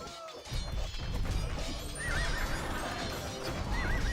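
Armored cavalry horses of Elite Boyar units in a strategy video game, with repeated whinnies and neighs over a dense bed of battle noise, hoof clatter and clashing.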